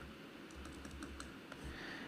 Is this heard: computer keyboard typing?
yes